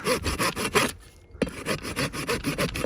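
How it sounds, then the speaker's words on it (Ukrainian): A hand saw cuts through a thick fallen tree branch in a forest, with rapid rhythmic rasping back-and-forth strokes up close, a brief pause midway, then steady sawing again. "для цієї пилки, друзі, також ця гілка дуже товста"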